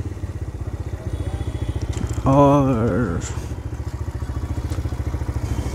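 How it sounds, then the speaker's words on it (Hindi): A TVS motorcycle's engine runs with a steady, close-up pulsing beat as it is brought to a stop and parked, briefly overlaid by a short burst of a louder tonal sound, with a voice speaking over it. "बाइक को करते हैं यहाँ पे पार्क"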